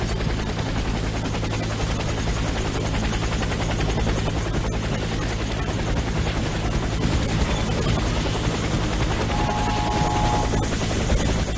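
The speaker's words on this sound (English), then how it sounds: "Helicopter is inbound. Prepare for extraction." A helicopter arrives for extraction in a tactical squad shooter game, its dense rotor thrum steady and loud throughout, with no pause and a faint distant tone near the end.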